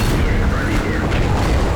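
A Soviet medium tank's cannon fires in a tank video game, producing a loud, dense blast and a roaring rumble that fill the whole short moment without letting up.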